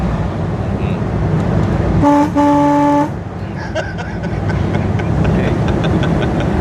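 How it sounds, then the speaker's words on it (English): Two quick horn beeps from a 1937 Cadillac Series 90 restomod convertible sound close by over a running engine, with people talking in the background. "this car they'll notice when I beep that horn"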